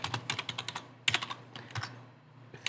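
Quick bursts of keystrokes on a computer keyboard as a short comment is typed into a PLC programming project, close and crisp with a brief pause midway.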